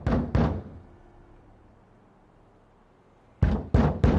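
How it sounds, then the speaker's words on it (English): Two sharp knocks on a wooden door in an audio drama, then a quiet pause, then three firm, close, evenly spaced raps. "Until one morning when the sunrise brought a knock on the door."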